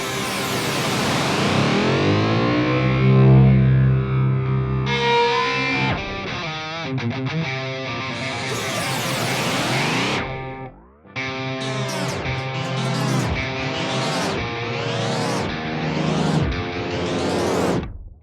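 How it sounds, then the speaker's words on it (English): Distorted electric guitar run through a heavy, self-oscillating delay that feeds back on itself, smeared repeats sweeping up and down in pitch, loud and swirling. "So that's a pretty fun way to use delay as like a self-oscillation kind of thing."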